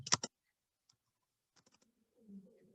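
Computer keyboard typing heard as a few light, sparse key clicks in quick small clusters, close and quiet, followed by a faint low murmur near the end.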